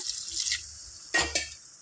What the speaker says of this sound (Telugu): ఇప్పుడు నేను ఇందులో 1/2 లీటర్ వాటర్ యాడ్ చేసుకుంటాను.